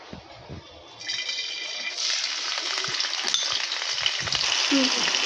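Ginger, garlic and onion paste with green chilli and garam masala drops into hot oil in a pan, a loud, close sizzle that surges and holds steady with light scraping and clinks, no talking.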